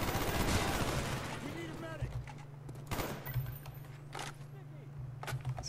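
Gunfire in Black Ops 1 on PC, several sharp bursts of shots between quieter stretches, with a low steady hum underneath and someone talking over the action.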